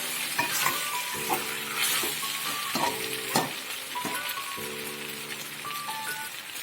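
Pasta in tomato ketchup sauce gets stirred in a pan, a close, continuous sizzle with scraping stir strokes, partly under tonal background music.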